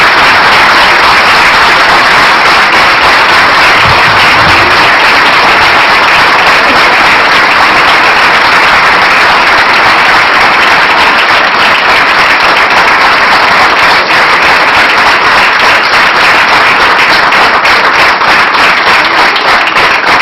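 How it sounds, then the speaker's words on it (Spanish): Loud, sustained audience applause at a commemorative gathering in Calilegua, dense continuous clapping from a large crowd that fills the whole stretch without letting up. "le pedimos un aplauso"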